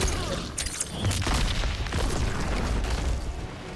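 Bullets fire in Spawn's Fatal Blow, a special move in the Mortal Kombat fighting game, as a dense, continuous barrage of booming shots and bursts lasting the whole stretch, loud with no pauses.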